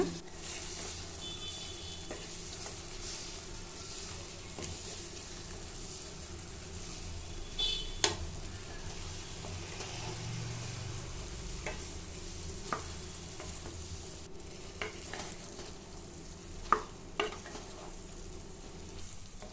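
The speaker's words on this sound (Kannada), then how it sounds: "ಈಗ ಕಾಲಿಫ್ಲವರ್ ಹಾಕೊಳ್ಳೋಣ ಇದನ್ನು ಅಷ್ಟೇ ಒಂದೆರಡು ನಿಮಿಷ ಫ್ರೈ ಮಾಡ್ಕೋಬೇಕು" Cauliflower pieces fry in a pan with a faint, continuous sizzle, occasional spoon scrapes and light clicks across about twenty seconds, quiet and close, with no one speaking.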